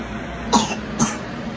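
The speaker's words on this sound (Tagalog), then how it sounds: "Naatake naman si baby ng ubo niya." A baby with a cough attack in the middle of the night gives two short, soft coughs about half a second apart against a quiet steady background.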